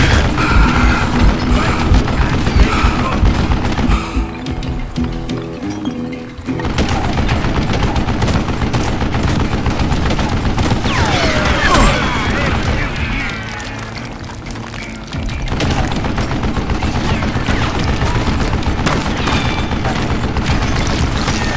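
An old man firing a mounted gun in Call of Juarez: Gunslinger, with sustained rapid bursts of gunfire, booms and mechanical clatter, loud throughout with brief lulls.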